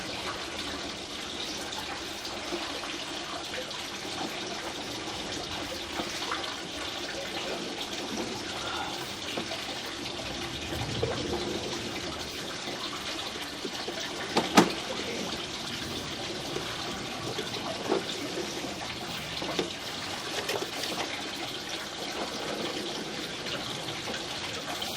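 Water runs from a tap inside a house and flows down the drain line beneath a concrete driveway: a faint, steady trickling wash with one brief knock midway.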